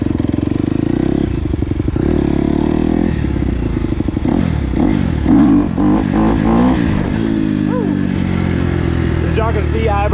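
A dirt bike engine buzzes loud and close during a wheelie attempt, the throttle chopped on and off so the revs surge and drop in uneven bursts.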